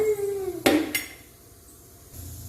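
A metal wok set down on a stove for egg rice, giving one sharp clang and a second clatter soon after, close and fairly loud, followed by quiet room tone.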